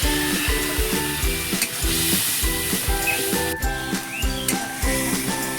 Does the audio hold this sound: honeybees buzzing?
no